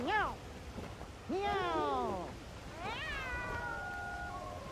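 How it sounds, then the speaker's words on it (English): A cat meows three times in a row, the calls clear and fairly close, over a faint background hiss. "Oh, I like your cat."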